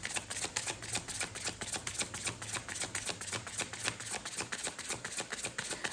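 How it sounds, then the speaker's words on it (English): Rapid, rhythmic riffling clicks repeat steadily as a deck of tarot cards is shuffled close by, with no voices. "I had to shuffle a long time for the cards to come out"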